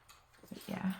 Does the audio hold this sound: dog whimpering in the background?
yes